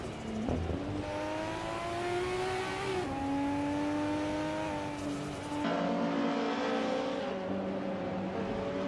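Race car engines in a racing video game whine and rise in pitch through successive gear changes, a loud continuous revving that drops and climbs again.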